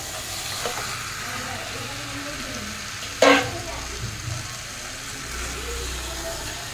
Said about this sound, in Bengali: দেখুন মাংসটা কষা হচ্ছে, আমি নেড়ে দিচ্ছি